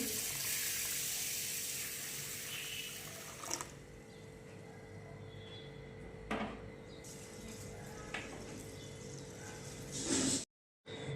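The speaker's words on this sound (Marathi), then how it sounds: "पाणी टाकून दोन तीन पाण्याने स्वच्छ असे धुवून घ्यायचे" Water sloshing as rice and white urad dal are rinsed in a bowl for idli batter, a soft continuous swish with a few light knocks and splashes, then a brief silence near the end.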